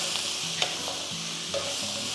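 Cumin, green chilies, a large piece of ginger and around twenty garlic cloves sauté in a pan with a steady close sizzle, broken by a few soft scrapes and taps of a stirring spoon.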